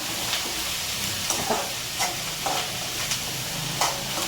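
Onion roasts in a pan of poha seasoning with curry leaves, a soft steady sizzle with occasional light stirring scrapes and taps, no talking.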